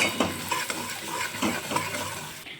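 Boiled potato filling being stirred with turmeric and salt in a pan, giving a steady scraping, sizzling mix with repeated spoon strokes close up; no one speaks.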